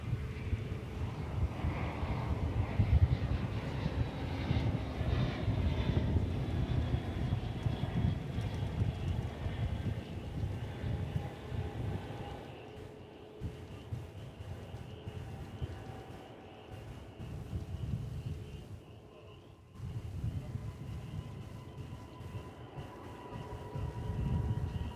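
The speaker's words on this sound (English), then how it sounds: "2168 from Ontario, California, an Airbus A321." An Airbus A321 airliner on the runway at DFW airport, arriving from Ontario, California. A distant, steady jet rumble and roar fill the whole stretch with no voices.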